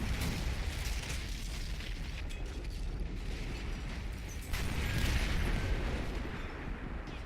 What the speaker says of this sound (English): Only saw 3 of the Nebelwerfer rockets actually hitting anything